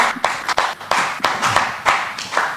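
Sharp hand claps at a church gathering come in an uneven, rhythmic run of about eight bursts. They sound close and clear, with no talking.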